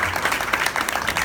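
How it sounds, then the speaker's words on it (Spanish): An audience claps at a presentation event in Panama, a brief burst of close, dense applause. "pido un aplauso para él porque él también va a estar con nosotros"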